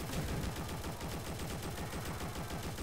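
Rapid automatic gunfire from a zombie video game, a steady burst of fast repeated shots filling the whole short stretch, loud and close with no talk.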